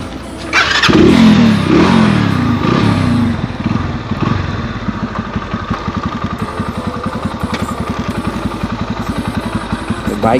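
A motorbike engine starts with a loud burst, then settles into a fast, steady idle putter, close by.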